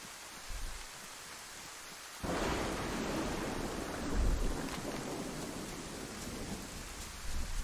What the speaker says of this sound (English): I swear there's a new thunder sound where it like rolls